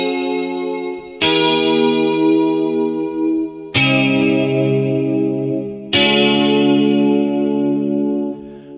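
Three sustained guitar chords played through the Chorus Soak preset of Orange Tree Samples' Evolution Indie Rock guitar instrument, each struck loudly and left to ring, with lush shimmering chorus and no talking.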